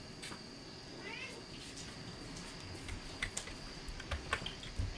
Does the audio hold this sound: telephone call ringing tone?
no